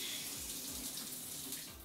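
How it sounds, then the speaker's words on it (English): Four shower heads in a newly renovated small bathroom run steadily, giving an even hiss of spraying water that holds at a constant level throughout, close by and with no speech. "I definitely wanted to try out all four of the shower heads to see how they worked"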